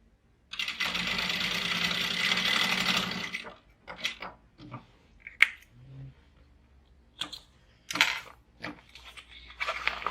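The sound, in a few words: sewing machine stitching seams at half inch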